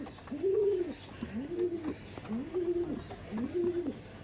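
Saharanpuri napta pigeons coo in a loft in a slow repeating pattern, four soft rolling calls close by, with faint background rustling and ambience.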